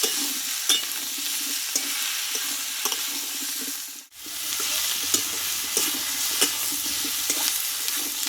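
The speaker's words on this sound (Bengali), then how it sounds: "এই সবজিটা কষিয়ে নিতে হবে" Mixed vegetables sautéed in a pan for a vegetarian sabji, with steady sizzling and frequent stirring scrapes and taps close up, broken by a brief pause midway.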